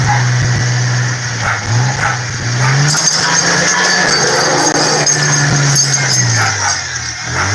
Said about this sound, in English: Listen to Barry just smoking the clutch.